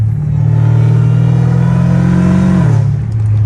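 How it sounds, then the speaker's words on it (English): A Dodge Challenger Hellcat Redeye idles with a steady, loud engine drone and a supercharger whine layered on top, the pitch dropping slightly near the end as the revs settle. "You can hear the whine now."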